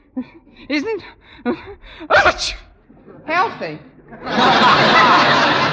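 A woman gasps and lets out a loud, close sneeze in an old radio drama, preceded by breathy gasping and short speech, the sneeze ending in a sustained hissing burst.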